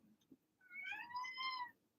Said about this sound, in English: what was that big meow about?